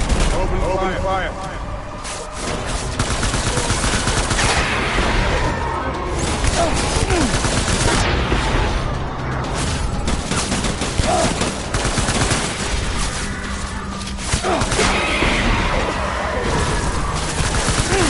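Sustained heavy gunfire keeps up dense, overlapping bursts of shots and booms for the whole stretch, loud and continuous, with voices shouting faintly beneath.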